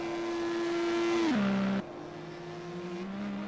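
Simulated IndyCar race car engine at Interlagos in a sim racing game, a steady high whine that drops sharply as the car downshifts and then holds a lower drone, loud and close, with no talk.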